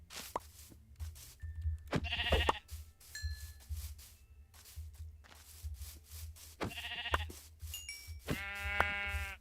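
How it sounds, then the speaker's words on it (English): Sheep in the game Minecraft bleating three times, short wavering baas spaced a few seconds apart, fairly clear over quiet clicks and soft in-game background noise. "Oh, hey, sheep."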